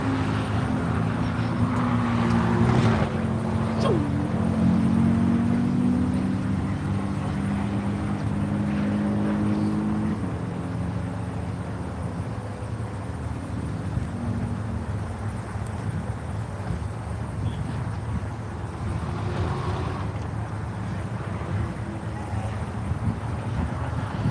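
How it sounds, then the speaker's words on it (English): A Corvette race car passes on a race track, its engine note rising and falling as it goes by, over steady wind rumble and distant track noise, with another car fading away later. "Here comes Bill in the Corvette. Across the line."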